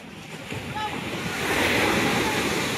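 Large waves crash and surge against the shore at Tanza, Cavite, building to a louder roar after a moment, with steady wind buffeting the microphone.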